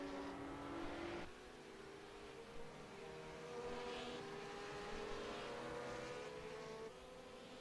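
A GT3 race car circles Suzuka circuit, its engine a faint, distant whine that rises and shifts pitch as it passes through the corners.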